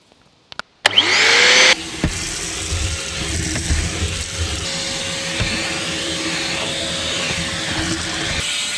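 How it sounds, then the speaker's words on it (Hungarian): Vacuum cleaner hose sucking debris out of a squirrel nest inside a Mercedes W123 300 Turbodiesel, a few clunks first, then the motor whines up loud and keeps droning with rattling bits drawn through. "ide kell egy porszívócső, bedugni a lukba és kiszívni mindent"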